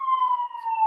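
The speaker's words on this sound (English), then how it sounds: "that's a siren going on outside" A siren outside wails in a steady, slowly falling tone, clear and sustained throughout, with no voices.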